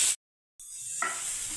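Onion and other ingredients for dal vada sauté in a pan, a steady close sizzle and frying hiss resuming after a brief silent break, with a light stir.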